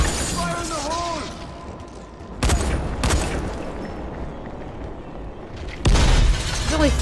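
Grenade explosions in Dying Light: two sharp, loud blasts a few seconds apart cut through busy combat noise, with voices talking underneath.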